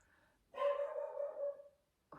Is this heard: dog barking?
yes